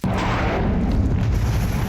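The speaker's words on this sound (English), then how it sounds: "let's see how a slime feels when I shoot it with a rocket" A rocket explodes in a Minecraft modpack game, a single loud booming blast that rumbles on with a sustained roar for about two seconds, close and heavy, with no speech.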